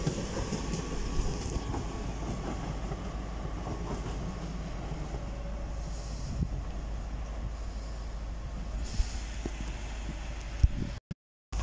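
An LNER Class 801 (801-225) London King's Cross to Edinburgh Waverley passenger train arriving at Darlington station rumbles steadily at close range with a low, continuous roar and occasional faint clatter, before cutting off abruptly at the end.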